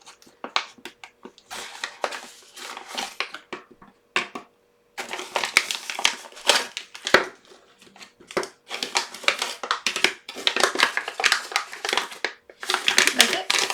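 A resealable plastic tool pack from a diamond painting kit crinkles and rustles in bursts of handling, close by, while a person speaks over it.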